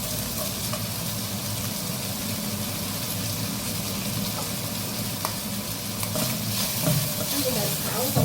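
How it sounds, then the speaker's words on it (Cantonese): Garlic and eggplant stir-fry in a wok with a steady, dense sizzle and hiss, broken by occasional scraping clatters of the spatula against the pan. "跟住就炒佢啦，炒香啲蒜頭菜先"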